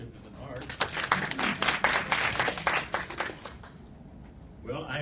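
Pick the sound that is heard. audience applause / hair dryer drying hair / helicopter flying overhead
audience applause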